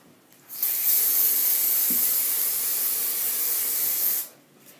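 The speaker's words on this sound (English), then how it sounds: "I'm going to take her Mega Volume hairspray" Mega Volume hairspray is sprayed under a girl's hair in one sustained close, bright hiss lasting about three and a half seconds, starting and stopping abruptly, with no talking.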